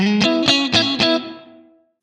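Electric guitar chords are struck in a quick rhythmic pattern through a Blackstar St James amp plugin, then a bright, shimmering reverb tail rings out and fades to silence.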